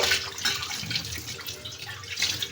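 Tap water runs in a close, steady splashing stream as vegetables are washed, with small drips and surges over a brief stretch.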